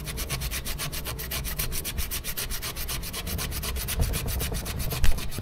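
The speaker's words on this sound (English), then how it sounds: "I'm busy scrubbing with a sponge all this corrosion and silicone." Steady rapid back-and-forth scrubbing of a sponge over a corroded, silicone-smeared part from a Yamaha 70 hp two-stroke outboard motor, continuous and close with no talk.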